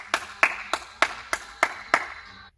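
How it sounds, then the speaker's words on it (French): Seven crisp hand claps from parents and children at an indoor gym class, spaced in an even rhythm and fading at the end, close and moderately loud with no talk. "Et je pense qu'on peut s'applaudir super fort."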